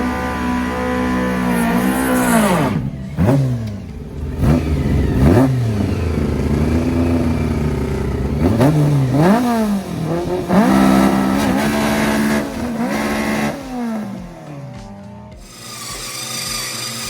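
A 235 hp VW engine runs and is revved hard several times, its pitch sweeping up and falling back in repeated loud surges, close by with no talking.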